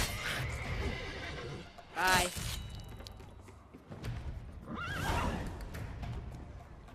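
Horses in The Witcher 3 video game whinny loudly twice with hoof clip-clop and thuds, heard near over a busy game soundscape, with a brief spoken word.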